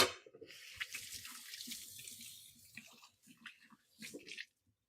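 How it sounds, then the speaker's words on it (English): A kitchen tap runs steadily into the sink while hands are washed, with splashing and small bursts of water for a few seconds before it cuts off, no voices. "I'm going to wash my hands."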